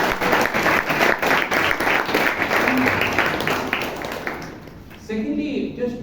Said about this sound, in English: So please give Alan a big round of applause.